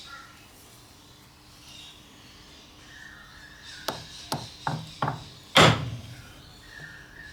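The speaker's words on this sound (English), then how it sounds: "I opted to chisel out the piece to be removed." A chisel cuts out a notch in a wood wall bracket for a stick vacuum. It lands as a run of five sharp, close knocks, growing louder and ending on a heavy strike, after several quiet seconds.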